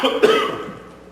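A single short cough close by, with a harsh burst that trails off quickly.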